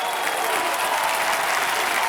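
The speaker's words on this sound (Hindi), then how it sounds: "आज यहाँ तालियों की बौछार जो हमने देखी है और जो गूंज सुनी है" Steady, full applause from a television quiz show studio audience on Kaun Banega Crorepati, sustained and even throughout, with no pauses or speech over it.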